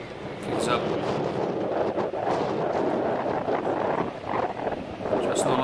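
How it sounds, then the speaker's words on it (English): Gusty wind buffets the microphone at an outdoor rugby sevens match, a steady broadband roar with surging gusts that nearly fills the whole stretch. "the wind kicks up"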